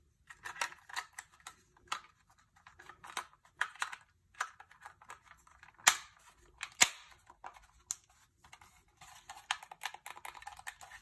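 Small plastic clicks and snaps sound sporadically up close as Xbox controller thumbsticks snap into place, with a couple of sharper, louder snaps standing out among quieter fiddling noises.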